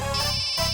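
A short electronic ringtone plays steadily, a bright synthetic tone pattern filling the whole moment without pause, close and fairly loud.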